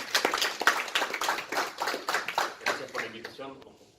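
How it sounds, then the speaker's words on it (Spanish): Audience applause for an economist named Axel, scattered individual claps in an uneven rhythm that thin out toward the end, with voices mixed in. "un aplauso aquí para Axel."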